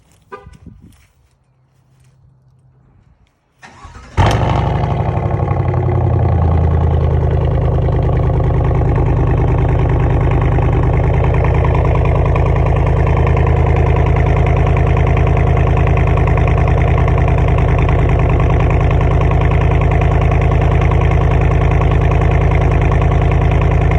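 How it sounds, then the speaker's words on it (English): A 2021 Chevy Silverado cold start: quiet handling noises, then the starter catches and the engine roars up loud, settling into a steady, high, rumbling idle that continues for the remaining twenty seconds. "Let me go ahead and give y'all a little cold start of it."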